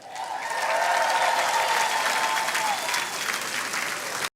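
A crowd at a political convention applauding, loud sustained clapping that swells quickly and holds for several seconds before cutting off.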